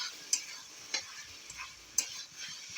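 Meat cooking in a pan in a home kitchen at night, with potatoes being added: faint sizzle under a few sharp metallic clinks of a spoon against the pan, spaced irregularly, with no one speaking.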